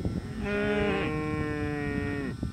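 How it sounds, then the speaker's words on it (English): Cattle on a New Zealand farm move toward fresh pasture as one cow gives a single long, close moo. The moo starts strong and fades out after about two seconds, with faint rustling around it. "the cows are noticing the fresh pasture and they're moving over to eat it"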